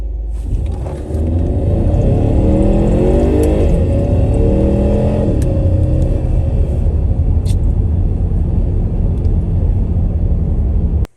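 A turbocharged SUV engine accelerates hard while racing a Corvette, a loud close rumbling roar rising through gear changes for about ten seconds before cutting off abruptly.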